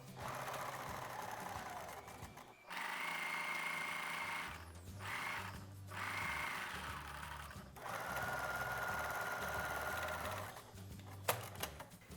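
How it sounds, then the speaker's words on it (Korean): A sewing machine stitches a 1 cm seam along two layers of check-pattern cotton collar pieces for a child's sailor dress, running in several steady bursts with short pauses between them, close and clear, with no talking. "목둘레만 빼고 나머지 부분은 다 시접 1cm로 봉제를 해서"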